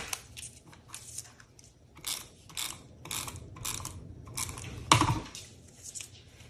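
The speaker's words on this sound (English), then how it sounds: "So I'm just going to snip a little bit of it off" Scissors snip through paper for a scrapbook layout, giving a series of close, crisp cuts at an uneven pace, with a louder snip near the end and faint rustling between.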